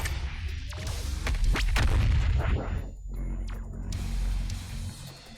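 The BFG 10,000 in DOOM Eternal fires: heavy, booming artillery-like blasts with mechanical rumble, loud and close, followed by a lingering low roar and a second swell.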